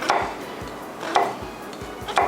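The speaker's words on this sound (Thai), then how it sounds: "หั่นเป็นแบบ เล็กๆ ไปเลยฮะ ไม่ต้องถึงกับเต๋าจ๋ามากก็ได้" Knife chopping vegetables into small pieces on a cutting board for a baked cheese-stuffed tomato dish, with sharp close taps spaced irregularly over a couple of seconds, heard alone without talk.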